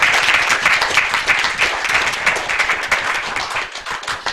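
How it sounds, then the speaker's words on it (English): Steady, dense applause from a city commission meeting audience, with many hands clapping continuously at an even volume throughout. "Let's give Linda Crowder a round of applause."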